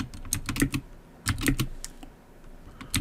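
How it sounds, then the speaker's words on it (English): Rapid bursts of keystrokes on a computer keyboard, close and clear, coming in quick clusters with short pauses between them while code is typed, no voices over it. "I realize I'm going to be typing this a lot"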